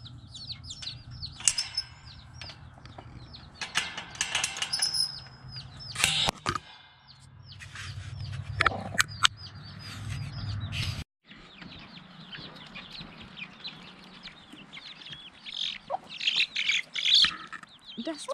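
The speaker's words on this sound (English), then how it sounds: "Look at you, you're so darn cute. All this peeping." Baby chicks peep continuously in a flock following a hen outdoors, high chirps overlapping near and loud, with occasional clucks and a brief gap midway.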